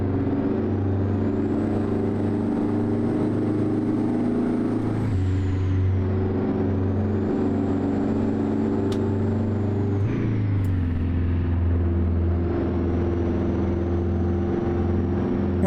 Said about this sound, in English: if you're familiar with this engine and the sound it makes, that's a two-stroke diesel.